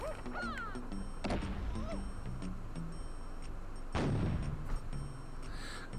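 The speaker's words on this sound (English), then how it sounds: "that makes sense shooting out of a cannon" Cannon blasts in Donkey Kong 64: two punchy booming shots about three seconds apart over game music and chirpy cartoon sound effects, with a voice murmuring underneath.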